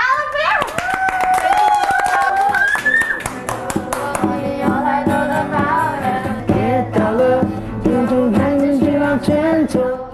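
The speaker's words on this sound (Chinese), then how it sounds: "就是掌声不够热情" An audience at a community event claps, producing quick, rhythmic hand claps mixed in with loud voices and singing-like tones, including children's, for about ten seconds.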